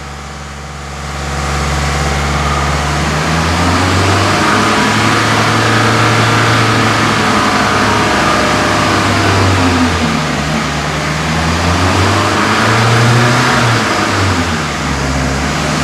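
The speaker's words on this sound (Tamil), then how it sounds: "இப்போ அதிக ஆர்பிஎம் ஏற்றிட்டு பிரேக் அப்ளை பண்ணும்பொழுது என்ன நடக்கும் அப்படின்னா வீல் சுற்றிட்டு அப்படியே பிரேக் பிடிச்சிட்டே சுற்றிட்டு இருக்கும்" A car engine revs hard at high RPM while the brake is held and the wheels spin, a loud, close, continuous roar whose pitch wavers up and down for about fifteen seconds.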